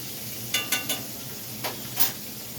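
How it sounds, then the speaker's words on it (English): Pork chops cooking in a pan, a steady low sizzle with a few clattering scrapes and clinks of a utensil against the pan scattered across it. "So y'all, I got the pork chops cooking."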